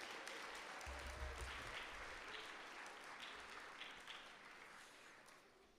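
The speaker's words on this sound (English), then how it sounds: "Let's have a round of applause for Sabine Todd and her morning music." A school chapel audience applauds at a morning assembly: steady, dense clapping from a large crowd that fades slightly toward the end, with a low hum underneath.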